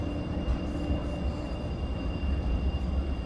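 A tram passes on the street in Rostock, a steady low rumble with rolling wheel noise and a faint high tone, loud and close throughout with no talk.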